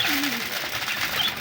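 Pigeons being fed give a brief low coo up close, soft against a light background of rustling and faint voices.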